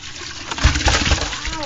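A bucket of fresh fish catch and water tipped out into the sea from a boat, a short splashing gush that swells and slaps against the surface, close and fairly loud.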